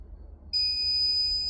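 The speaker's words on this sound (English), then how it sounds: "So we're going to do 8 seconds, and it will beep at me." A single steady electronic beep sounds suddenly after a quiet moment and holds as a continuous high-pitched tone.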